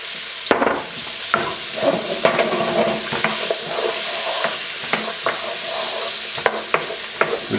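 Onions sizzle in a hot pan while a utensil stirs and scrapes them, sharp clacks recurring at irregular intervals over a steady close frying hiss, with no talking.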